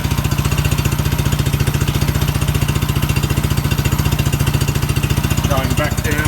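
A Suzuki Quad Runner ATV, found stored in a chicken shed, runs in top gear with a loud, close, rapid and steady thumping engine pulse, and a brief voice comes through near the end.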